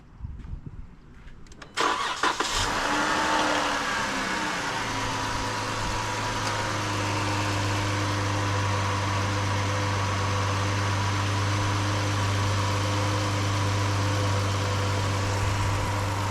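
A 2011 Dodge Charger engine cranks and fires up near the start, then settles into a steady, close, humming idle for the rest of the stretch, with no speech.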